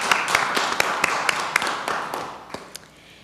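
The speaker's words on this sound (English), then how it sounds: "Let's have a round of applause." Scattered hand claps ring out in a city council chamber, a brief round of applause from a small crowd with sharp individual claps over a low room murmur.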